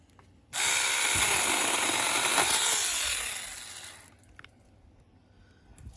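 A Seesii power tool cuts through tree branches, a loud steady buzzing whine lasting about three and a half seconds before trailing off into quiet outdoor background.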